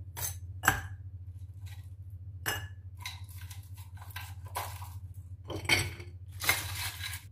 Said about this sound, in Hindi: सबसे पहले हम आइस डाल देंगे।